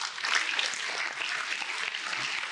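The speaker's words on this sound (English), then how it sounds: "Let the applause rain." An applause sound effect plays as a dense, steady wash of clapping from a crowd, sustained and fairly loud for a couple of seconds.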